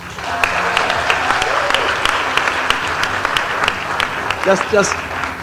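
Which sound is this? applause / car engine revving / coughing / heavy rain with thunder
applause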